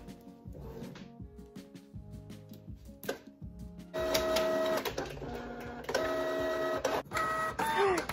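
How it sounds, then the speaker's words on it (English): A home printer printing a page, with close mechanical whirring, feeding noises and rapid clicks in stop-start bursts that grow louder and busier partway through. "I'm trying to get the printer to work."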